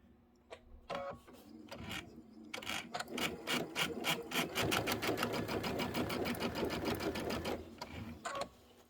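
A domestic sewing machine stitches quilt fabric onto muslin in a few short starts, then a long, fast, steady run of rhythmic needle thumps, close and clear, ending with a brief stop and restart.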